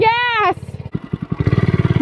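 Engine of a Kawasaki Prairie ATV revs up in a close, loud, fast-pulsing burst that climbs in pitch and speed, cutting off after a moment before the rapid firing beats build again.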